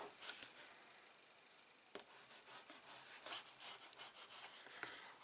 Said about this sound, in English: So just give it a firm rubbing down.